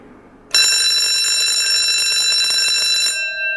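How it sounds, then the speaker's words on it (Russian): A laser beam security system's alarm suddenly sounds a loud, steady ringing tone that holds for about two and a half seconds before cutting off into a softer fading tone. "об этом тут же узнает этот приемник и включает сигнализацию"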